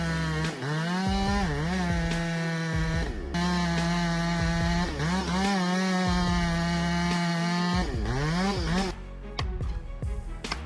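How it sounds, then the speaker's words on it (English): A STIHL chainsaw runs at steady high revs during professional logging tree felling, its whine dipping and recovering as the chain bites into wood, loud and close, before cutting off near the end. "STIHL chainsaws are the backbone of professional logging."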